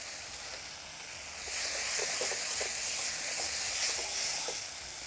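Curry sizzling in a pan right after a teaspoon of Kasuri methi goes in, a steady close hiss that swells louder partway through and holds with faint crackles, no talk.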